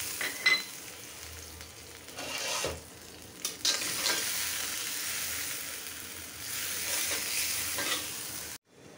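Onion and spice masala fries loudly in a pan for egg bhuna, a steady close sizzle broken by repeated scraping and stirring strokes, ending abruptly.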